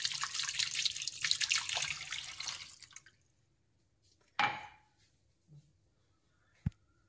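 Water is poured into a bowl of ground sambar spice powder for a mixed vegetable huli sambar. It runs as a steady splashing stream for about three seconds, then goes quiet, broken only by a few isolated drips and a sharp tap.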